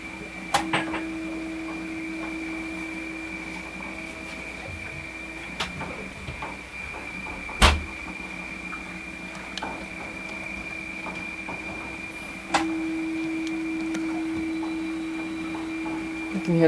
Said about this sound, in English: Weatherfax is chugging away.